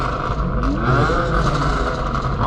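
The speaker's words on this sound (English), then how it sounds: "Oh, that AMG sounds nice. Nice and deep." Deep Mercedes-AMG car exhaust note, a loud steady low rumble with rising revs, heard from a trailing car on the road, with no talk.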